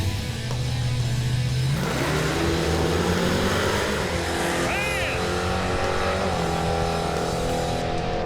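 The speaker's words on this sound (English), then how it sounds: "I hope he burns out now" A 1986 Ford Mustang doing a burnout at a contest, engine revving hard and rising in pitch with a sustained roar and tire noise, loud and close, crowd voices underneath.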